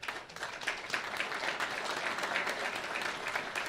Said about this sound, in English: you can save your applause because you don't have to applaud facts